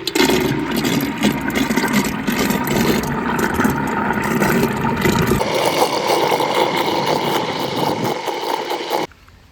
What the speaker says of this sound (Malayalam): വെണ്ണ കടഞ്ഞെടുക്കാൻ വേണ്ടിയിട്ടുള്ള ഒരു മെഷീൻ സംവിധാനമാണത്